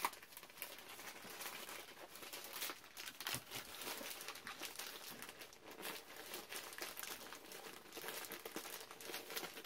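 Packaging crinkling and rustling steadily while a comic book and stickers are unpacked, with soft irregular crackles close by and no talking.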